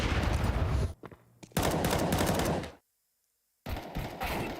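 Rapid gunfire bursts in a Counter-Strike match, loud clustered shots in three separate volleys broken by short quiet gaps.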